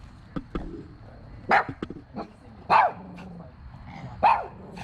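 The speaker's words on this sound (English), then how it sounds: "What are y'all barking about? Look at the little puppies." Several puppies bark and yip in short, irregular bursts, a few louder barks standing out over quieter background yapping, fairly close.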